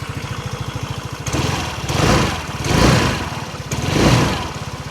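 A Musatti Glamaro Max 125 scooter engine idles with a steady low putter from the exhaust, swelling in a few gentle revs before settling back to a smooth idle.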